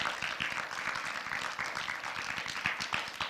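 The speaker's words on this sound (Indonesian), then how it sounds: "Beri tepuk tangan untuk kebaikan Tuhan" An audience claps during a sermon at a religious gathering, a dense, even patter of many hands that continues throughout.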